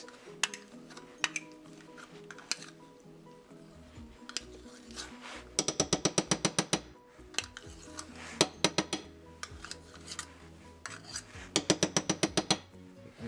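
Mashed potatoes being stirred with sour cream, melted butter and milk in a pot, with repeated clinking and scraping of a spoon against the pot coming in bursts of rapid, close taps.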